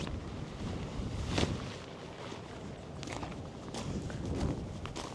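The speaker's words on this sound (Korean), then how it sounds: "바람이 어마어마합니다." Strong wind gusts at a campsite, buffeting the microphone in a rough, rumbling roar that swells and eases, with brief flapping and rustling bursts close by.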